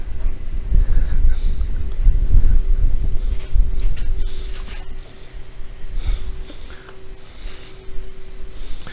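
Gusty wind buffets an outdoor microphone while a KTM motorcycle wheel and tyre are worked on, a low rumbling roar rising and falling throughout with a faint steady hum beneath.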